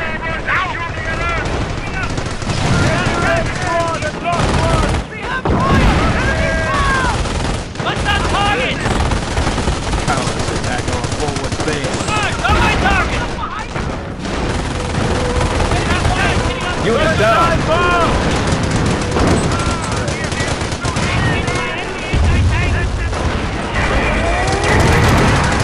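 Dense, sustained gunfire and explosions in a German assault battle in the Command of Heroes video game, with rapid bursts layered over constant battle noise and commanders' voices calling out throughout.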